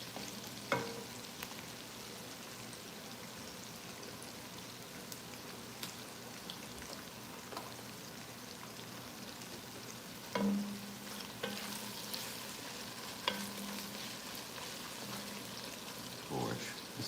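Onions and sausage frying in a pan for lasagna soup, making a faint, steady sizzle with occasional soft clicks and scrapes of stirring, heard close and quiet.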